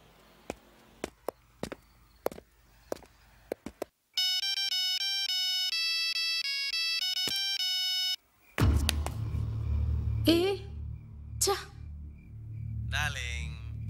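A synthetic mobile ringtone plays a steady melodic pattern of bright tones for several seconds, followed by voices talking over background noise.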